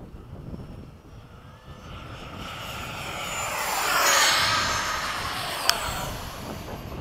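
A Skysword model aircraft on a midday demo flight roars past, its engine whine swelling with a rising and falling pitch sweep as it nears and passes, then fades, with a brief sharp click near the end.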